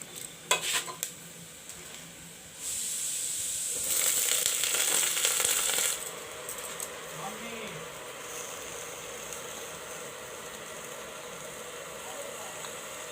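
Half a kilo of palak saag goes into a pan of browned onions, with a loud rush of sizzling as the leaves land, then quieter frying and stirring as the spoon works through them.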